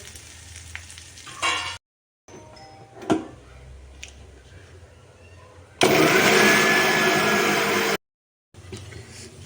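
Short bursts of kitchen noise, then a loud steady whirring of a mixer grinder grinding sesame seeds and cumin for about two seconds before cutting off.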